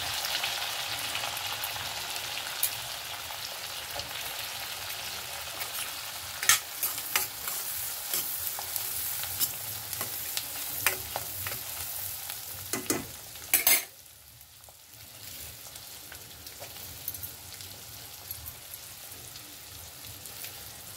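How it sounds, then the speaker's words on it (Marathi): Onion frying in butter and a little oil for tempering a vegetable dish, a steady close sizzle with stirring and a few clinks of the spoon; the sizzle drops briefly about two-thirds of the way through, then continues more quietly. "भाजीला फोडणी देऊया। त्याच्यामध्ये बटर टाकलेलं आहे आणि थोडंसं तेल टाकलेलं आहे।"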